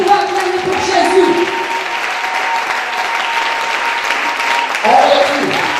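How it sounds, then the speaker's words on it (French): A church congregation at a Sunday service claps for Jesus, sustained dense applause from a large crowd in a reverberant hall, with voices rising over it at moments. "Put your hands together for Jesus."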